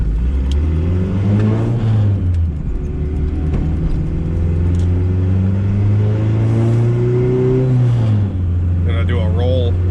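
A turbocharged Honda Civic EF hatchback with a top-mount Hunter-tuned 5855 turbo rolls onto the throttle in third gear on the street, its loud, sustained engine drone climbing steadily in pitch through a hard pull.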